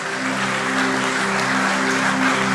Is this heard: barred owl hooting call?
no